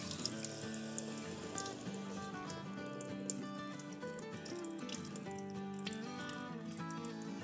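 Running tap water washes food held in a strainer in a kitchen, a soft, steady splashing flow beneath background music, fairly quiet.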